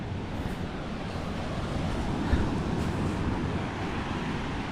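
Steady wind and surf at sea during a boat crossing near Bucana, a continuous broadband rush with a slight swell in the middle, no talking.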